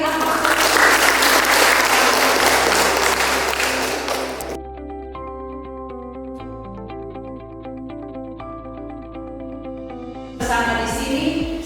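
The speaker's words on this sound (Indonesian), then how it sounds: "Kita beri aplaus." An audience at a craft training event in Manggarai Timur, Indonesia, applauds loudly for several seconds, then the clapping gives way to steady instrumental music, with a brief burst of noise near the end.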